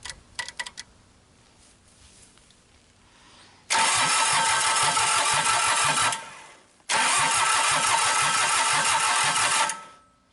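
A Cummins A series diesel engine in a track hoe, replacing a Yanmar, starts for the first time in years: a few clicks, then two long, loud cranking-and-running bursts separated by a brief pause.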